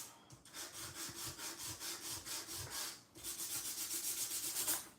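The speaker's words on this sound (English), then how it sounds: "I'm just going to sand the paper, moving it around." Sandpaper rubbed by hand across embossed cardstock paper in a crafting session, a steady, close, rhythmic scratchy back-and-forth rubbing with a brief pause midway before the strokes resume.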